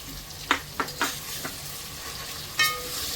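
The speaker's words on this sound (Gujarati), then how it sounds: "તો તેલ આપણું એકદમ ફર્સ્ટ ક્લાસ ગરમ હતું એટલે કાંદા ફટાફટ થવા મળશે" Onions fry and sizzle in hot oil for vegetable biryani, with a soft constant hiss broken by several sharp stirring scrapes of a utensil in the pan. No one speaks.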